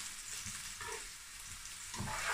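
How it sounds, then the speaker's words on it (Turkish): Chopped onions sizzle in a pot as they are stirred, a soft continuous frying hiss with faint scrapes of the spoon, alone and fairly quiet. "Soğanlarımız pembeleşene kadar karıştıralım."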